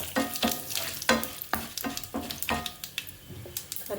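Dried red chillies fry in hot oil for a gorucikkudu (cluster bean) fry, with brisk sizzling and repeated stirring clatters of a spoon against the pan, close and steady.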